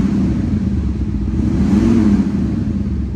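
An Audi SQ7 ABT with a 4.0 TDI V8 diesel, its engine note amplified through the car's sound system, holds a loud, deep, continuous rumble that swells slightly mid-way under a blip of throttle, close and steady with no talking.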